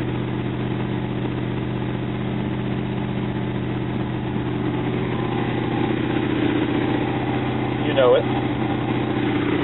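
An Olds 350 5.7L V8 fitted with a Comp Cams XE268 camshaft idles steadily during break-in, a constant low engine drone with a faint light clatter, while a voice speaks briefly over it.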